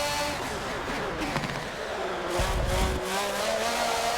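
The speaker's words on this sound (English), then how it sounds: "See, they're squealing. And some of it's from braking." Race car tires squealing through a corner at Silverstone in Forza 7, a sustained high tonal screech with some squeal from braking, over a loud revving engine.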